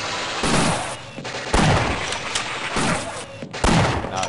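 Loud shotgun blasts come from the video game Half-Life. Four heavy booming shots arrive about a second apart, each one followed by a rumbling decay.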